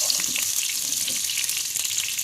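Meat for Acem pilavı frying in melted butter gives a constant close, bright sizzle with faint crackles throughout.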